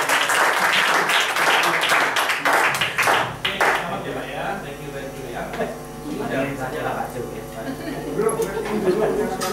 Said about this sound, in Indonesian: Oke, tepuk tangan buat teman-teman sekalian.